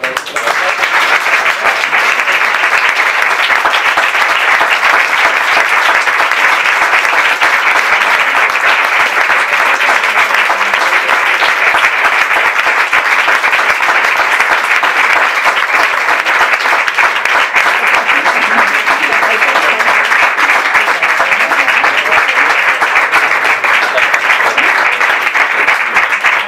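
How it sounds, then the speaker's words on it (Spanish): An audience at a Saturday talk on María Zambrano and fascism breaks into loud, sustained applause, dense steady clapping that holds evenly throughout without pause. "Un aplauso para vosotros."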